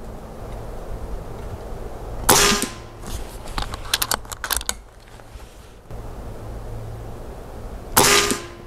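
A Kral Arms Puncher Breaker Silent Marine .25 PCP air rifle fires two sharp, loud cracks about six seconds apart, with a cluster of lighter clicks and rattles from the gun's mechanism between them.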